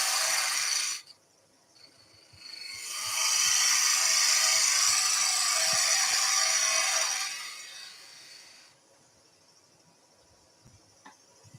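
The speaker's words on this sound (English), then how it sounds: "So let's go with the bowl gouge. I'm going to go slightly bigger. So a little 3/8 bowl gouge." A 3/8 bowl gouge cuts into a spinning wooden salt or pepper grinder on a lathe, a hissing, scraping shear that swells for several seconds between quieter stretches with faint ticks.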